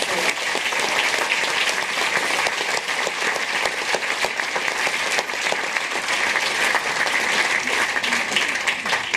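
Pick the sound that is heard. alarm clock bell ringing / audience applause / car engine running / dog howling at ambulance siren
audience applause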